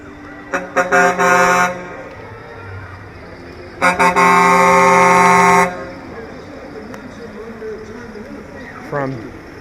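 Two parade tow trucks from a towing and recovery company blast loud air horns in two long bursts with short toots between, close by at an evening Christmas parade in Marysville, with voices underneath.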